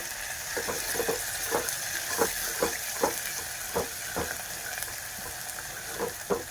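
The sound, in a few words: curry leaves and cumin sizzling in hot oil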